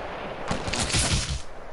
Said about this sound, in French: le mec il me met une balle de snipe à travers